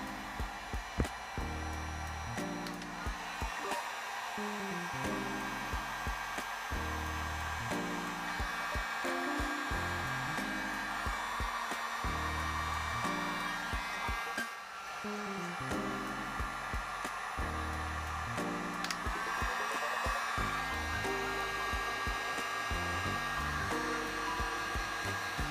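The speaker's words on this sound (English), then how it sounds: "it's time to use a heat gun" Heat gun blowing a continuous whirring, hissing airflow while shrinking heat-shrink tubing over motorcycle wiring on a Yamaha V Star, close and steady throughout with background music playing.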